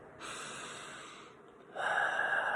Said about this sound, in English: Take a deep breath for me.